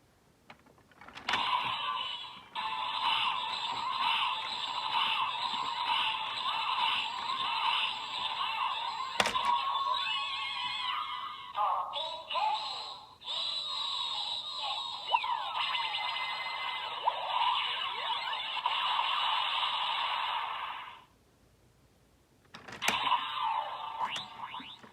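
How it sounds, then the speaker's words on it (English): Kamen Rider Gavv henshin toy belt running its final attack sequence after the crank handle is turned: loud, sustained electronic chiming and mechanical whirring that holds for about twenty seconds, breaks off into a brief pause, then resumes, with no talking. "Turn the crank handle to start up the final attack."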